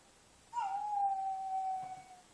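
A poodle howls on command, one long sustained tonal howl that holds steady then trails off, fairly close and alone with no talk over it.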